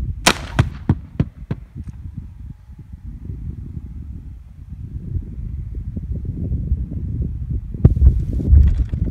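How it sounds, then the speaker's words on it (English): Explosive blast digging a hole for a transmission line tower: a sharp burst of thuds and cracks at the start, then a low rumbling roar of settling debris, with a few more sharp hits near the end. "let the camera zoom in and watch this hole being blasted"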